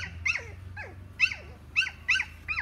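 A young schnoodle puppy from a litter whines and yelps in a run of about six high, falling squeals, close by and fairly soft, with a low hum underneath and no talking.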